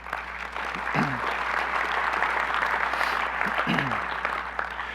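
Audience applause at an annual business meeting, a steady, dense wash of clapping from a large crowd lasting throughout, with faint voices briefly audible beneath it.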